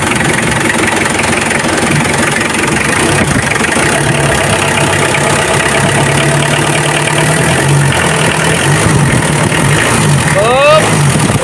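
A car engine idles after being started and warmed up, a steady close rumbling drone that holds even throughout, with voices talking over it.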